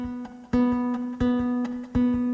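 Classical guitar plucked with the bare flesh of the thumb, no nail, giving soft rounded notes; several single strikes ring out and decay in a slow, even rhythm, close and clear with no talking.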